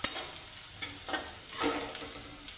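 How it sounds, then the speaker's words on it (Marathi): Onion being fried in a pan, a close steady sizzle with a couple of brief stirring scrapes over a short stretch, no talking. "कांदा परतवून झाला बघा, कांदा चांगला भाजून घ्यायचा"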